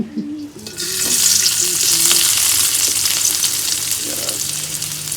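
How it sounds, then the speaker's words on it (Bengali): Khichuri sizzles steadily as it fries in ghee in a pot, a dense, bright crackle that starts after a brief quieter moment and holds close and loud throughout, with faint stirring clinks underneath. "আমি একটু ঘি দিয়ে রান্না করতে পছন্দ করি"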